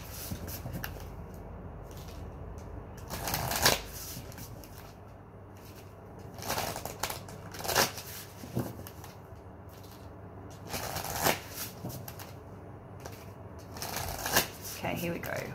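Cards of a new tarot deck shuffled by hand in bursts of riffling and shuffling, close and moderately loud, with soft handling noise between and quiet talk over it.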